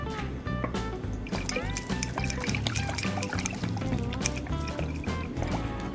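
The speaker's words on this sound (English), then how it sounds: "And a few dashes of our Worcestershire sauce." Worcestershire sauce poured into a meatball mixture in a home kitchen, giving a steady liquid trickle and splash that lasts throughout and is close and fairly loud.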